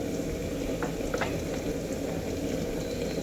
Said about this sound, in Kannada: ಲೋ ಫ್ಲೇಮಲ್ಲಿ ಇಟ್ಟು ಚೆನ್ನಾಗಿ ಫ್ರೈ ಮಾಡ್ಕೊಳ್ಳಿ.